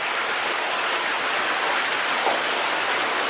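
Water rushes steadily inside the underground river of Cavinti Cave, a loud, constant, broadband wash like a small waterfall or fast stream, echoing with no talk.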